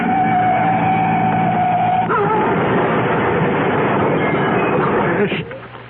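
Car crash sound effect from a radio mystery drama, with a rumbling engine and skidding roar that shifts abruptly into a rough, churning crash noise before trailing off at the end.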